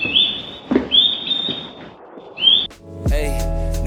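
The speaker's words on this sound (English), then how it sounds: "The first thing that surprised me was the artificial bird sounds at many stations." Three thin, rising artificial electronic bird chirps at a Japanese train station ring out over a quiet station hum, followed by a sudden low tonal drone and buzzing.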